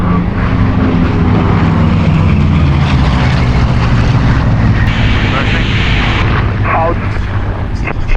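Warbird piston engines of a B-25, P-38, F4U Corsair and P-51 Mustang flying in a four-ship formation above Old Warden Aerodrome give a loud, continuous, deep propeller drone with shifting tones, heard from inside an aircraft.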